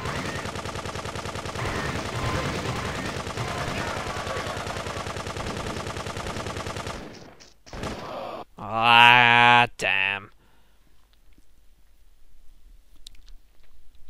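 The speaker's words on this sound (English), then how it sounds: "Now using dual pistols, which is fine." Rapid pistol shots from dual pistols in Grand Theft Auto 2, a dense stream of gunfire for about seven seconds, then a brief burst of other game sounds and quiet.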